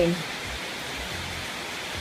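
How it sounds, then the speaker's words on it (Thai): Steady rain falls outdoors in front of a house, producing an even, unbroken hiss of moderate loudness that continues for the whole stretch with no distinct drops or other sounds standing out. "ฝนตกค่ะ"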